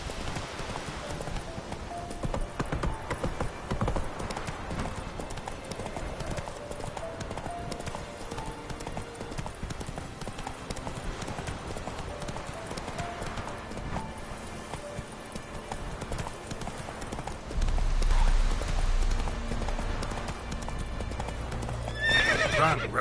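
Roach, Geralt's horse in The Witcher 3, gallops with steady hoof clip-clop throughout, along with whinnies and a louder low rumble of game sound and music toward the end.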